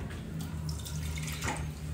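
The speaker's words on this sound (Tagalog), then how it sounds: "lagay tayo ng water" Water poured into a cooking pot while making bilo-bilo, a Filipino sweet snack, a steady close splashing trickle over a low background hum, with no talking.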